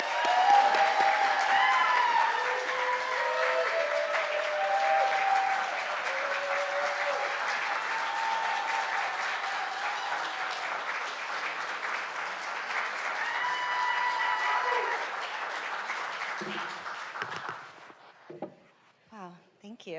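Sustained audience applause fills an awards ceremony hall, steady and dense with voices murmuring underneath, then tapers off into scattered claps and quiet near the end.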